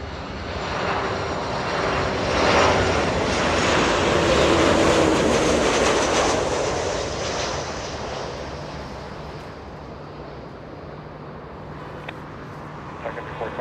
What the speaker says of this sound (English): Delta 896, flying in from Salt Lake City